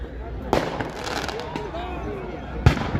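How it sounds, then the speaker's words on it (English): Fireworks set off amid crowds at a Victoria Day celebration in Toronto: two sharp bangs about two seconds apart over a busy outdoor crowd murmur, with people talking nearby. "they're setting off fireworks in the middle of crowds of people"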